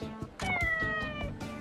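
A cat meowing in the video game Like a Dragon Ishin: a clear, loud, drawn-out meow with a short lead-in chirp, alone and close.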